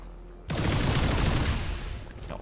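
Gunfire in the XCOM 2 video game, a sudden loud burst of shots that erupts after a quiet moment and rattles on in a dense volley before tailing off slightly.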